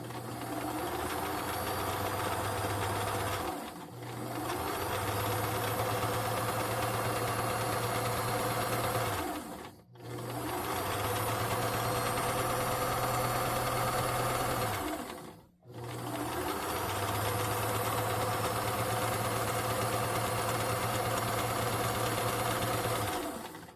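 Sewing machine stitching fabric while a Simplicity 8614 pattern is sewn, its steady rapid mechanical whir running in three long passes with short pauses between them, near and prominent.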